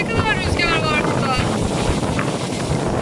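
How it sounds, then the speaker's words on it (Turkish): Strong wind at an outdoor playground roars and buffets the microphone as a continuous loud rush, with a voice faintly heard over it. "Of, ne kadar rüzgar var burada."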